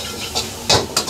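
Noodles with oyster sauce and capsicum sauce are stirred in a pan over high flame, a soft sizzle underneath with a few distinct scraping clinks of a utensil against the pan.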